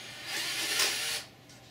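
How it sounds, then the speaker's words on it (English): Power drill countersinking holes in a CNC linear threaded rod attachment, a steady close whirring grind lasting about a second before cutting off into quiet. "So you have to kind of hold your drill"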